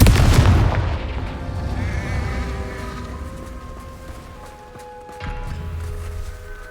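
A Confringo blasting spell from the Hogwarts Legacy video game goes off with a loud opening boom that fades into a rumbling decay and low tonal hum, followed by a second, softer thump later on.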